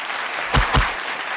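Steady audience applause on the TV game show Suvarna Superstar, close and full, with two sharp thumps cutting through the clapping partway through.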